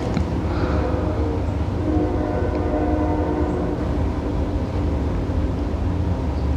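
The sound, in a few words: train passing in the distance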